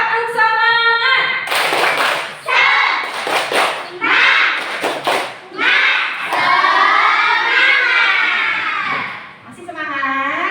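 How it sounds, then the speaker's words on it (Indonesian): A class of schoolchildren performing a rhythmic spirit clap, with loud bursts of group clapping alternating with shouted chanting voices close by. "Yo, tepuk semangat."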